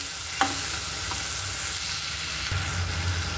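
Onion and tomato masala paste roasting in a pan, a steady close sizzle with a few scraping stirs and one sharp clink near the start, no talking.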